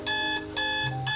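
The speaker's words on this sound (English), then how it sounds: "Alarm! Wake up, dude!" An alarm clock rings in two loud bursts of bright electronic beeping with a short gap between them, starting a third burst at the end, heard alone with no talk.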